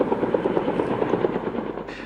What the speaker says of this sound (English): Air tankers and helicopters are pounding the Ferguson fire from the air with fire retardant and water drops